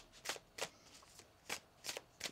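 Tarot cards being shuffled by hand in a quiet room, a series of soft, crisp riffling bursts in an uneven rhythm, each short and close, with no talking.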